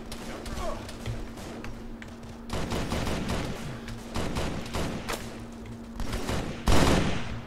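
Gunfire in the video game Arma 3, rapid bursts and single cracks popping repeatedly throughout, with a louder volley near the end, mixed with game ambience and a steady background hum.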